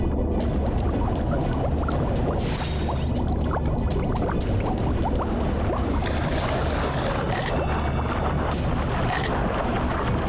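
Cartoon water bubbles burble underwater in a dense, continuous stream of popping, gurgling bursts, loud throughout with brief fizzing rushes.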